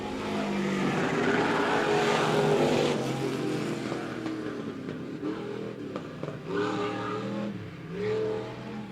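USRA stock cars racing in a heat race at Monett Motor Speedway, loud engine roar that fades from a close pass into revving and shifting engines farther around the track.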